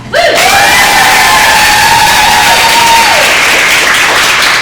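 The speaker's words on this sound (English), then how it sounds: "Can I hear some big cheering for Nocona?" Loud crowd cheering and whooping at a women's community event in Nocona, Texas, with sustained yells and screams rising over steady applause and no speech.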